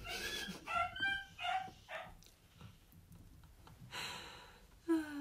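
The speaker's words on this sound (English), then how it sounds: "That's my very excited dog because my boyfriend's just got back from the shop." An excited dog barks and whimpers indoors in a run of high yips and whines, fairly close but moderately quiet, with no talking.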